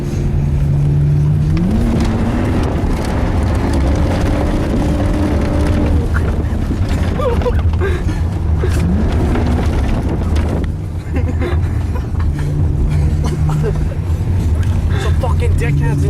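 BMW E46 330i M-Sport doing donuts, engine revving and droning with rising and falling pitch over constant heavy wind buffeting, with voices talking throughout.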